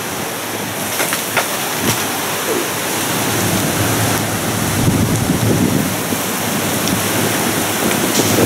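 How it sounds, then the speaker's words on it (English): Monsoon storm wind gusts through a desert wash in Arizona, a loud, continuous roaring rush with rain-like hiss and occasional faint knocks, and no one speaking. "this monsoon storm just hit"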